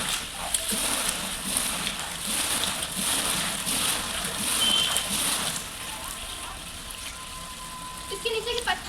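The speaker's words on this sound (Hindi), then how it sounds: "मेरा पानी में पैर तैर रहा है" Feet swish and splash in the Turra Kund natural spring pool outdoors, a close, continuous sloshing of water with irregular small splashes throughout.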